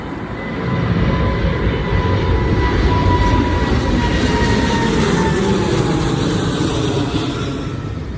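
A big airplane flies low near Dubai airport at night, its jet roar swelling in quickly and then holding as a loud, steady, broadband rumble.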